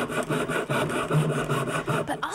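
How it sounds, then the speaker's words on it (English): Hand saw ripping plywood lengthwise, a steady series of rhythmic rasping strokes, close and fairly loud, with no voices. "ripping is a little bit trickier, because the blade wants to wander."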